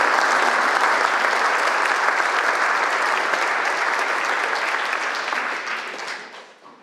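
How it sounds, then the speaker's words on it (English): A large audience applauds steadily and loudly for a woman honoured at a Moms for Liberty event, a dense sustained roar of clapping that holds for several seconds before fading out at the end. "Give everyone a round of applause to this hero, Tara."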